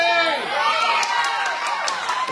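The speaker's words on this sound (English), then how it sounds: "The crowd is going crazy." Crowd cheering at a ninja warrior obstacle course competition, a sustained loud roar of voices with excited shouts rising above it throughout.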